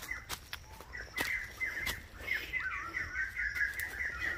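Small birds chirp outdoors in quick, repeated high tweets, fairly near, alongside a few scattered clicks and rustles.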